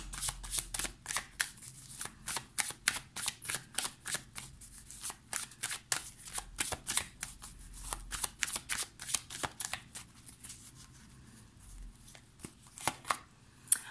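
Tarot cards shuffled and drawn at close range, a quiet run of rapid papery riffles and slaps in an irregular rhythm, then a few scattered taps as cards are set down.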